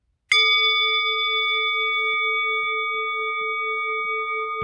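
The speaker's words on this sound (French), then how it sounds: "quand j'entendrai la cloche" A single bell struck once to close a relaxation session, a clear ringing tone with steady overtones that sustains evenly for several seconds, alone and quiet around it.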